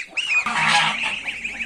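Several geese honk loudly and close up, large geese attacking smaller ones, overlapping harsh calls in a continuous noisy squabble lasting the whole moment.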